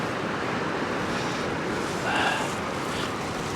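Steady broadband wind blowing outdoors, buffeting the microphone continuously with a slight gust swelling near the end, no voices.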